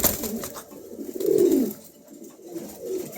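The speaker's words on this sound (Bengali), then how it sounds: "এখানে একজোড়া শুকিং আছেন দেখেন মার্শাল্লাহ দেখার মতন ব্লু শুকিং" Blue Shukin pigeons coo close by in soft, throaty, rolling calls, one swelling coo in the middle and quieter ones around it, with no talking.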